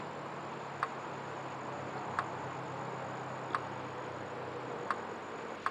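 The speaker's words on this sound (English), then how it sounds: "You might hear my electric fence in the background going tick, tick, tick." An electric fence ticks faintly in the background at a bee yard around sunset, a soft sharp click repeating about every second and a half over steady low outdoor hiss.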